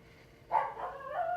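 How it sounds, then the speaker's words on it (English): A neighbour's dog barks next door, a short burst of muffled barks and yips heard faintly from a distance through walls. "dog next door barking"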